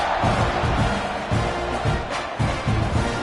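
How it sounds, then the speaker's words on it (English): A football stadium crowd buzzes and roars in a broad, steady wash of noise just before a kickoff following a score, with swelling pulses of cheering across the whole stretch. "this crowd is buzzing after that last score"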